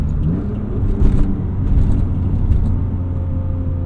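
BMW E36 M3 with a Turner Motorsport intake, heard from inside the car as a deep, throaty engine drone with brief surges of revving, close and loud, with no voices.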